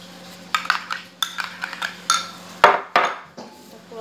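Cream and cream cheese stirred together for a kunafa stick, with a spoon scraping and clinking against a bowl in a run of short, close taps and scrapes, loudest near the end.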